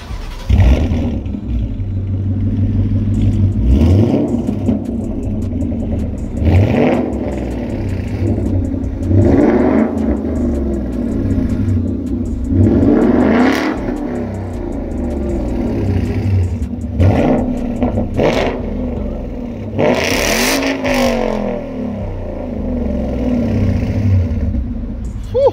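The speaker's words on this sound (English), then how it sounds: "why don't we get a little rev battle going between the Mustang and the AMG, and we see how different that they can sound right now" A Ford Mustang GT 5.0 on an S550 aftermarket exhaust and a Mercedes-AMG trade engine revs, deep rumbling idle broken by repeated loud surging revs swelling and falling, close and powerful throughout.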